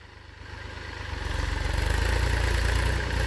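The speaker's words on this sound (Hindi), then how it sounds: "ये देखो ट्रैक्टर कैसा उठ गया आगे से, पूरे झटके लग रहे हैं।" A tractor pulling a tiller works a field, tearing out extra tree roots, its heavy engine rising and throbbing with rhythmic labored pulses as the load increases.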